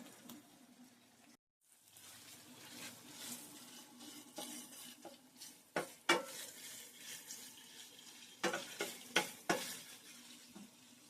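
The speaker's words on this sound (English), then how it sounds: "that's our hamburger frying" Ground hamburger meat frying in a pan on a home stovetop, a steady low sizzle with intermittent stirring scrapes and utensil clinks, close and moderately quiet, no talking.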